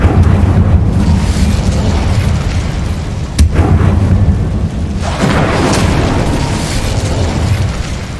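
The Incendio fire spell in Hogwarts Legacy bursts with a loud, close, rumbling blast, followed by a second booming burst of fire a few seconds later and sustained roaring.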